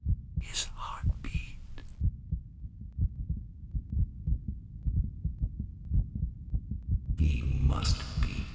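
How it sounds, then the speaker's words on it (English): Heartbeat sound effect from the 1995 Edgar Allan Poe horror game The Dark Eye: a steady, deep, throbbing pulse repeating for several seconds, with a whispering voice briefly before and after. "His heartbeat."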